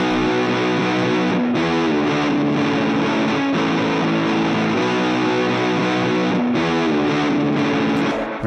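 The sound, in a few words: electric guitar with and without notch filter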